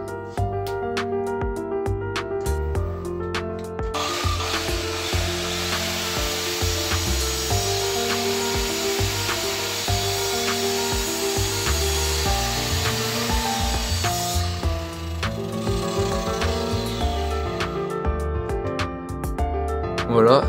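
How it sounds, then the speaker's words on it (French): A circular saw rips through traced wooden pieces for a homemade wooden candy dispenser, a steady loud whine of cutting lasting about ten seconds over continuous background music. "Je vais maintenant venir les couper avec la scie circulaire"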